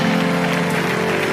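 A church congregation applauding during a sermon, a dense, steady wash of clapping and crowd noise that fills the whole moment at close, loud level.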